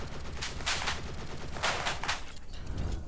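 Clusters of gunshots in the mobile shooter Infinity Ops, fired through a wall, coming in short bursts of moderate loudness over steady game ambience with no talking.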